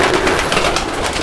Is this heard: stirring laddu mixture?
no